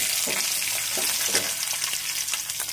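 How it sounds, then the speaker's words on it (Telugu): Onion, green chili and ginger-garlic paste fry in hot oil in a kadai, giving a steady, close sizzle with a few soft stirring scrapes and no voices. "పచ్చిమిర్చి, కొద్దిగా అల్లం వెల్లుల్లి పేస్ట్, కట్ చేసుకున్న కొత్తిమీర కాడల్ని వేసేసుకొని ఒకసారి బాగా ఫ్రై చేసేయండి"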